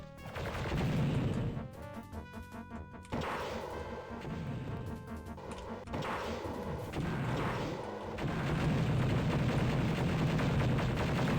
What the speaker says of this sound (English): let's get the Dark Trooper gun out